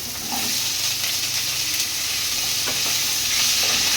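Cauliflower florets and potato pieces fry in oil with a steady, close sizzle and faint stirring clinks, the crackle holding level and growing slightly brighter toward the end.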